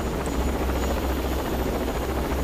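A helicopter approaches in the shooter game Rainbow Six Vegas, its steady rotor drone and low thumping filling the scene without pause.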